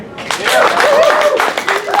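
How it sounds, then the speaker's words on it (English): Conference audience at Coke Alliance in Kansas City applauds, brisk clapping with cheering voices and a whoop rising over it, close and fairly loud. "round of applause for Phyllis Sinclair"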